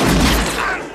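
A single loud gunshot from a duel between two cowboys in a western film booms up close, then its heavy rumble quickly fades.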